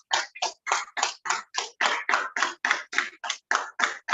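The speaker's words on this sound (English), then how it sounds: "Please give her clap." About fourteen sharp, evenly spaced claps, close and loud, from a small audience at a Toastmasters club meeting, crisp separate hand strikes with no talk over them.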